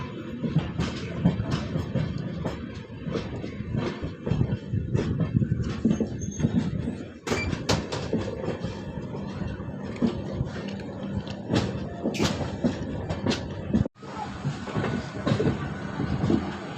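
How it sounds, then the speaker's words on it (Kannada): A train on the Belagavi to Sangli route moving onto the main line gives a steady, loud rolling rumble with rattling carriage clatter and a few sharp knocks, heard up close from on board without talk. "ನೋಡಿ ಮೇನ್ ಲೈನಿಗೆ ಟ್ರೈನ್ ಎಂಟ್ರ್ ಇದ್ವಿ"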